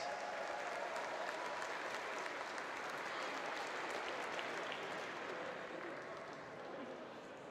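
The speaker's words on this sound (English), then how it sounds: "a big applause for the IFSC Speed World Cup" An arena crowd at the IFSC Climbing World Cup in Edinburgh gives the Speed World Cup medalists a long round of clapping, fairly distant and steady, fading slightly at the end, with voices faintly underneath.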